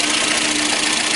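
A Datsun on-DO's eight-valve engine idles evenly but with a somewhat noisy, mechanical hum, heard up close as a constant drone with no talking.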